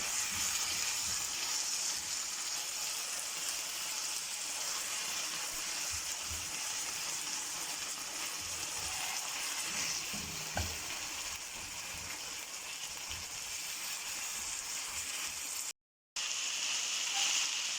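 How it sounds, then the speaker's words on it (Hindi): Chicken pieces and vegetables for shashlik fry in a pan with a dense, even hiss that holds steady for the whole stretch, broken once by a brief stir and a short gap of silence near the end, with no talking. "आप अच्छी तरह से आपने चिकन में सब्जियों को पका लेना है।"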